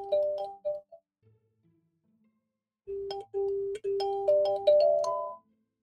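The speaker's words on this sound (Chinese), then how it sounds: "你看你们手机响了" A mobile phone ringtone plays in a short melodic burst, pauses in near silence, then returns louder with a longer run of bright tonal notes.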